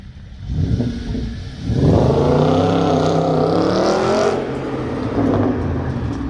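A 2008 Audi S5 with a 4.2-litre 350 bhp V8 revs up hard, a loud close growl climbing in pitch, holding high for a couple of seconds, then easing back to a rumbling idle.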